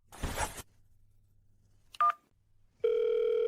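A phone call is placed to a line that goes unanswered: a short burst of noise, a pause, a brief pair of dialing tones, then a loud steady ringback tone begins and holds.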